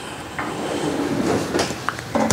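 A cabin drawer aboard the Celebrity Ascent cruise ship slides open, giving a few close wooden knocks and short scrapes over quiet room tone.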